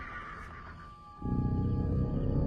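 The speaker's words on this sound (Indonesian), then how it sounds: "Siapa malam-malam begini naik kuda?" A horse neighs at night in a village setting, a drawn-out whinny over a steady low background, followed by a louder, denser rumble that continues to the end.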